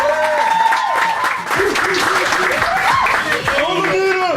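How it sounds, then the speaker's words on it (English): Audience at a book signing for author Linita Hosten clapping together, a steady dense burst of applause at close range with voices and cheering mixed in. "Let's clap it up for Linita."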